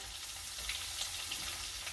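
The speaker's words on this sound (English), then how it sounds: "So we're pan frying or pan searing our shrimp." Shrimp coated in cornmeal and cornstarch pan-frying in hot oil, a steady close crackling sizzle with fine popping spatters throughout, no voices.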